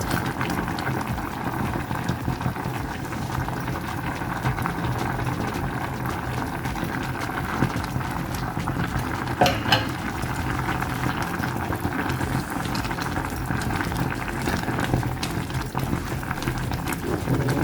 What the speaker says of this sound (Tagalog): Dito unahin natin ilagay ito laksa paste.